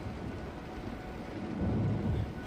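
A storm brings a steady wash of heavy rain and low rumbling thunder that swells slightly toward the end, with no voices.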